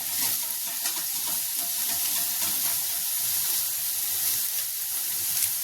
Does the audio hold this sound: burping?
no